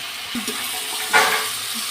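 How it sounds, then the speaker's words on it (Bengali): Water is poured into a pan of cooked-down poultry chicken curry: a short, moderately loud splash and rush partway through, then a softer lingering wash over a quiet kitchen background. "কষানো হয়ে গেছে, এবারে জল দিয়ে দেবো"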